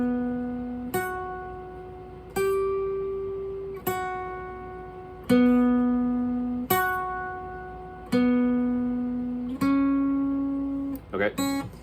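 The guitar riff is played slowly on guitar: single ringing notes are plucked roughly every second and a half and left to sustain, closing with a brief flurry of quick notes.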